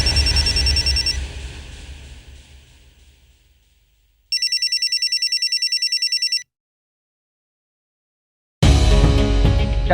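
A telephone rings in a domestic scene from a Hindi family drama, with a bright electronic ringing burst standing alone in the middle, after fading background sound and before music swells in at the end.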